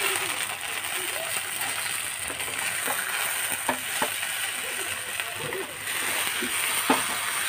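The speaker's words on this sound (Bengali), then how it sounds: "10 মিনিট এরকম করে হালকা আঁচে ফ্রাই করব।" Roti upma fries on low heat in a pan, a continuous soft sizzle broken by occasional clicks and scrapes of stirring, close and steady throughout.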